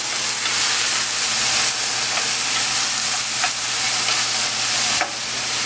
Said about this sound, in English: I'm going to go ahead and drop my pepper in, my hot pepper. Toss this around a little bit.